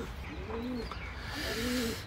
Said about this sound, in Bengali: এখানে হচ্ছে যে কবুতর আছে অনেকগুলা